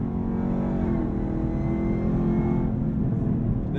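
A supercharged 2023 Camaro ZL1 with a 10-speed automatic roars steadily on a race track in track drive mode, its deep engine note loud and continuous from the cabin, with subtle pitch shifts as it holds gear under hard cornering.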